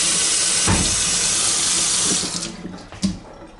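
Water from a kitchen tap runs steadily into a sink in an apartment unit, a loud continuous hiss that cuts off after about two seconds, leaving a few gurgling drips as the sink drains.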